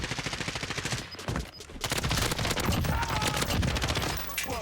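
Rapid bursts of M13 rifle fire in a Warzone battle royale match, a dense, loud fusillade of shots in quick rhythm with a brief lull midway before firing resumes, with a player's voice talking over it.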